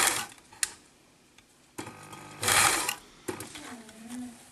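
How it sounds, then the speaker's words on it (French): A sewing machine topstitches fabric for a top and runs a short backstitch, with brief whirring bursts of stitching separated by pauses, close and moderately loud, along with handling clicks. "on va surpiquer ici. Voilà, un petit point arrière."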